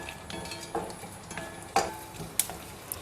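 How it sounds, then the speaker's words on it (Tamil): Dried turkey berries (sundakkai vathal) sit in hot oil in a pan for a Tamil vathal kuzhambu, stirred with a utensil: soft steady sizzle with several sharp clicks and scrapes of the spoon against the pan, close by. "அதே எண்ணெயில் பார்த்தீங்கன்னா இந்த சுண்டக்காய் வத்தல் போட்டுக்கிறேங்க"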